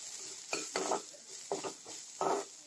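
Vegetables for an oats breakfast mix, with a pinch of turmeric, sizzle steadily in a pan while a utensil clatters and scrapes through them in four or five distinct bursts, close by and without talk.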